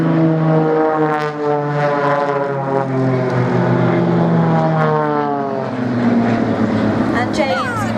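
Propeller engines of the Blades aerobatic display aircraft drone and swell as they fly at the Biggin Hill Festival of Flight air show, a sustained loud pitch-shifting roar as they pass, while a commentator talks over it.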